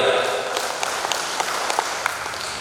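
A seated assembly at a national clan association congress in Jakarta applauds the organising committee with steady, moderately loud clapping from a crowd, with scattered sharper claps standing out.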